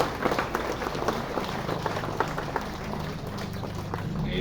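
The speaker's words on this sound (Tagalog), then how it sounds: "ay pumalakpak tayong lahat bilang magtambak ng pagsalubong na ito" A church congregation at an Easter salubong applauds, steady dense clapping heard from a distance within a wide, noisy crowd ambience.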